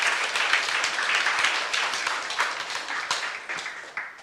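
A church congregation applauds in a broad, steady wash of clapping that tapers off toward the end. Scattered louder claps stand out, with no clear talk over it.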